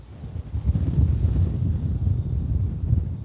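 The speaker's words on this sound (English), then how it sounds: "it is super windy" Strong wind on a beach in Melbourne buffets the microphone in a steady low roar with gusty swells, continuous throughout and with no voices.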